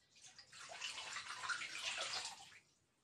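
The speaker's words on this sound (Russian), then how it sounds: "Сейчас заливаю теплую притеплую воду." Warm water pours into a small bath in a snail enclosure, a soft continuous splashing trickle that rises and holds for a couple of seconds before tapering off, close and fairly quiet with no voices.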